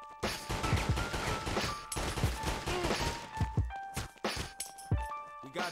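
Gunfire in the 50 Cent: Bulletproof game, rapid clusters of sharp shots and thuds in bursts, fairly quiet overall with game voices and effects around them.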